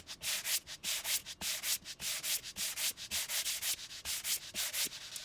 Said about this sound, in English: I also want to sand vertically after I stencil